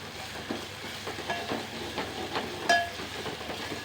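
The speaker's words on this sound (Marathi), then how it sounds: "हे पहा नुसता असा मसाला आपला भाजून झालेला आहे" Masala being dry-roasted and stirred in a pan for a rajma curry, giving a soft, steady sizzle with scraping and clinking strokes of the spoon against the pan, close by and without talk.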